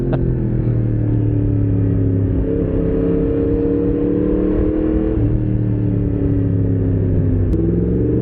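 A Yamaha MT-10SP motorcycle engine runs at low RPM, a loud, steady, deep rumble with slight rises and dips in pitch and a sharp tick late on.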